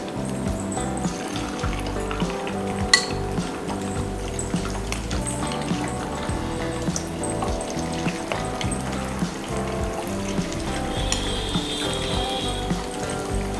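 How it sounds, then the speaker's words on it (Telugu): Marinated boneless chicken deep frying in hot oil over a high flame, a steady loud sizzling and bubbling hiss running throughout with small pops and crackles. "దీని ఒకసారి అలా మిక్స్ చేసి ఇప్పుడు డీప్ ఫ్రై చేసుకుందాం"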